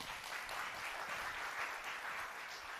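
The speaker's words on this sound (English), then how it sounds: "Give yourself a round of applause" Applause from an audience at a Black Panther event runs steadily throughout, faint and distant, as a dense wash of clapping with no voices standing out.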